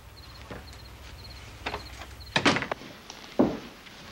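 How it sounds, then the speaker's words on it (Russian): A door is pushed shut in a Philip Marlowe detective drama, giving a heavy thud followed by a second duller knock in a quiet room with faint background tones. "Филипп, закрой дверь."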